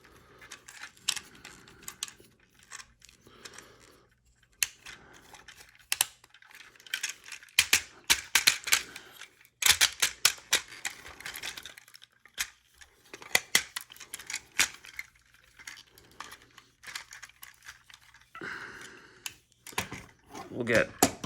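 Plastic parts of an LG-35 Super Ginrai transforming toy figure click, snap and rattle as pieces are folded in and pushed down, irregular close-up bursts with short pauses between them.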